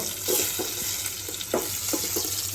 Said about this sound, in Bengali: তারপরে আমি দিয়ে দেবো হচ্ছে কিছু রসুন। খুব ভালো করে ভেজে নিব